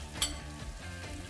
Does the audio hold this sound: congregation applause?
no